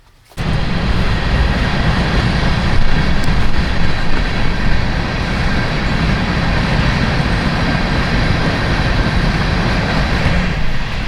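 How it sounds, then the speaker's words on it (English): A steady, loud low rumble fills the clip after a brief quiet start, like a heavy train rolling past nearby with constant broadband roar. "the train always comes by when I'm trying to talk into the camera"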